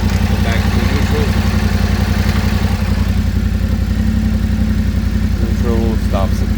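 A Yamaha Tenere 700 fitted with a Barnett clutch, idling close by with a steady low, pulsing engine thrum and some mechanical clatter, while a voice speaks over it.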